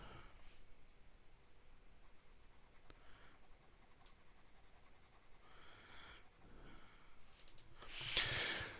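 A fine-nib fountain pen scratches across paper in short, soft, close strokes with pauses between them, ending in a louder burst of scribbling, with no talking.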